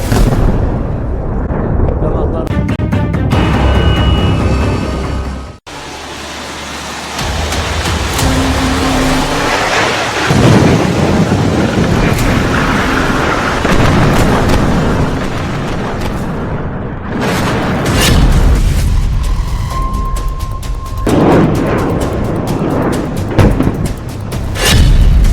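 A Hezbollah building is blown apart in an Israeli army strike, with loud booming blasts and rumbling debris noise that cut off abruptly and return in heavy bursts, mixed with commentary talk.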